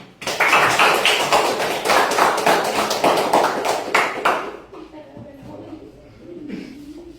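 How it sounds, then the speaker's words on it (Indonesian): Children clap their hands together in a classroom, a dense burst of fast, loud claps lasting about four seconds before dying away into quiet room noise and faint voices. "Coba kita beri tepuk tangan"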